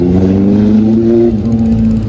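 A Ducati motorcycle passes on a Sunday ride to Khandala, a loud, close engine drone with steady tones that dip briefly as it goes by, over constant wind rush.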